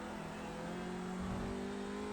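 An Audi TCR touring race car engine in iRacing hums steadily at high revs at Spa, a continuous mechanical drone with no pauses or voices.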